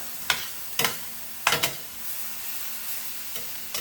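Vegetables and rice sizzle steadily in a pan for vegan fried rice, with several sharp scraping stirs of a utensil standing out over the constant frying hiss.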